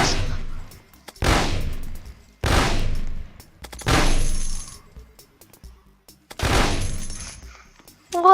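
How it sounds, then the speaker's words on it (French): FAMAS rifle fire in a Roblox zombie game comes as five sharp, loud bursts spaced roughly a second and a half apart, each with a quick decaying tail, with near silence between them. "Alors j'ai l'impression que ça tire 2 balles en même temps"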